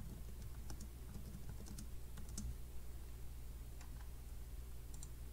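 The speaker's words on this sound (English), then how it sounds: "So the keywords, I'd probably type in Air Jordan Retro 6" Keystrokes on a computer keyboard typing in search terms: a steady run of light, quick clicks, close and clear, with no voices.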